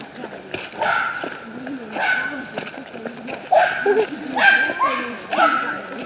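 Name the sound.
dogs barking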